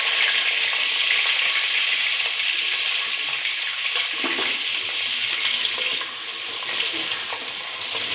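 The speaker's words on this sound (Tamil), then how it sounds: "கடுகு பொரிஞ்சிருச்சு. கொஞ்சம் வெங்காயம் போடணும்." Onion frying in hot oil with popped mustard seeds gives a loud, steady crackling sizzle with light stirring scrapes, close and continuous for several seconds.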